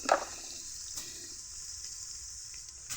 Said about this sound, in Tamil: வெங்காயம் எல்லாத்தையுமே இப்போ நல்லா வதக்கிக்கலாம்